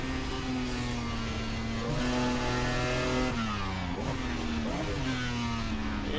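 A Jaguar E-Type races at Le Mans in the Assetto Corsa driving game, its engine note loud and sustained, rising through the revs, then dropping sharply on gear changes and braking before climbing again, with no talking.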